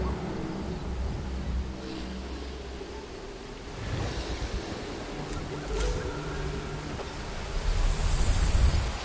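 A waterfall in the jungle of Ancestors: The Humankind Odyssey roars as a steady, broad rush of falling water, holding even throughout and swelling slightly louder near the end, with no voices over it.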